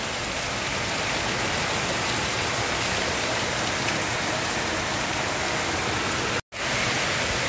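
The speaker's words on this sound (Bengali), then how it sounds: "মুষলধারে বৃষ্টি হচ্ছে।" Heavy downpour of rain heard through open windows, a dense, loud, unbroken hiss of water falling steadily, with a momentary cut near the end.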